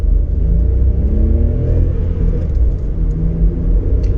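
Volkswagen Polo engine rumbles low and steady from inside the car while it accelerates hard from a standstill toward 100 km/h, a dense continuous drone with no voices.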